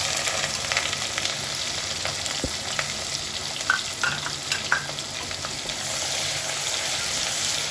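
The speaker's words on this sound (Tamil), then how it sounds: "அது வரைக்கும் நல்லா வெங்காயம் வதக்கிக்கோங்க" Sliced onion sautés in hot ghee in a pan with bay leaves for ghee rice. A steady, close sizzle runs throughout, with occasional stirring clinks and scrapes.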